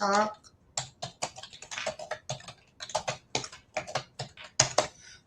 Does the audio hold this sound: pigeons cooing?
no